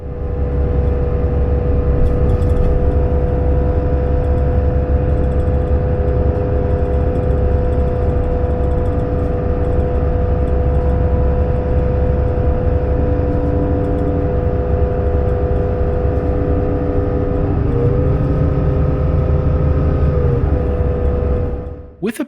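Kennedys Bus Service Volvo B8RLE bus on the move, heard from onboard as a loud, steady engine drone and whir with a faint tonal whine, continuous for the whole stretch.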